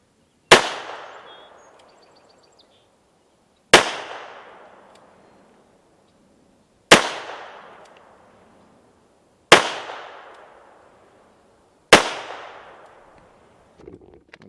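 Five sharp, loud pistol shots from small S&W 360PD and Manurhin PP handguns at a target range, each a separate crack with a short decaying echo, spaced about three seconds apart.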